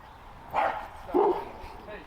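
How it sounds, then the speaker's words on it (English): Two short dog barks from a nervous, reactive dog on a collar during heel training, spaced about half a second apart at moderate distance, with quiet background between them. "we got a dog coming"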